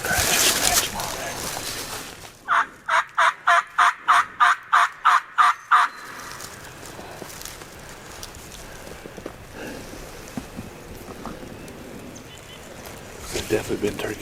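A wild turkey gobbler gobbles in a rapid series of about a dozen sharp, rhythmic calls, fairly close, followed by quiet outdoor rustling during a spring turkey hunt in Tennessee.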